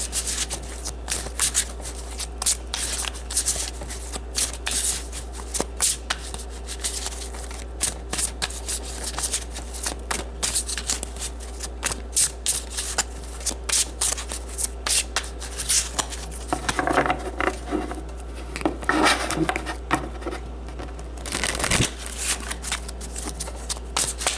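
Tarot cards shuffled for a reading, a long stretch of close, rapid riffling and rubbing card sounds over a steady low hum.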